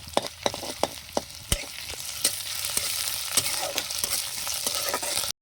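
Steady sizzling of onions frying in hot oil, with ginger paste added, punctuated by sharp clicks of a spatula scraping and stirring the pan.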